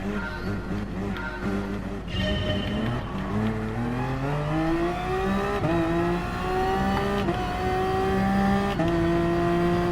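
Simulated LMP1 hybrid prototype race car at Le Mans in Gran Turismo Sport, its engine note climbing steadily through the gears as it accelerates hard, loud and close, with rising harmonic whine and no talking.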